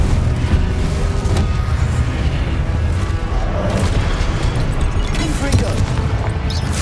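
An Incendio fire spell is cast in the video game Hogwarts Legacy, heard as a dense, roaring burst of booming, crackling blasts that fills the whole stretch at steady loudness, with voices mixed into the battle din.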